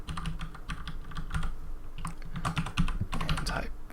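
Typing on a computer keyboard while building a web design page in HTML: steady, fairly quiet bursts of rapid key clicks with brief pauses, close to the microphone.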